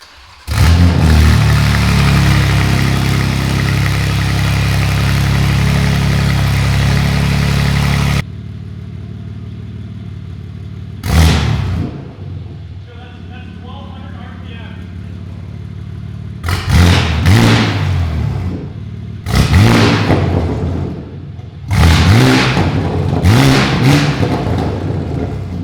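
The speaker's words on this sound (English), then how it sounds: "So this would be literally the loudest cold start this M2 could ever produce." A BMW G87 M2 with no exhaust fitted cold-starts with a loud, sustained, close-up roar lasting several seconds. After a quieter idle, four sharp revving blips follow, each a brief loud surge.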